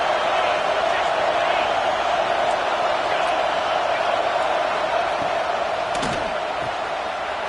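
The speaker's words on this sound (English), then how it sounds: "Listen to the crowd energy here in the early going. This is a tough environment for visitors." A packed stadium crowd at an American football game sends up a dense, continuous roar that holds at a steady, loud level throughout.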